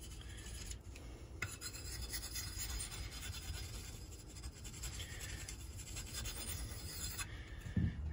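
A knife blade rasps back and forth along the unglazed rim of a wetted ceramic coffee mug, a steady close-up scraping and grinding that runs continuously with small shifts in stroke, ending in a brief knock.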